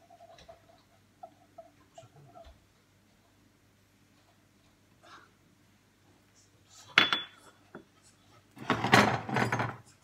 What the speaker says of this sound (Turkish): güzelce karıştıracağım